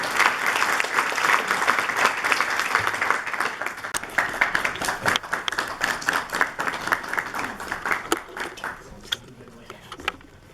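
Audience applause at a book launch event, a dense, steady round of clapping from a seated crowd that fills most of the clip and thins into scattered claps near the end.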